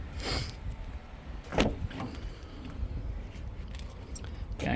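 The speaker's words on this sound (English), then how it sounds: "Electric windows again." Power windows on a 2022 Toyota Corolla Ascent Sport Hybrid, heard as a faint motor hum inside the cabin with a few soft thumps and clicks as the glass moves and stops.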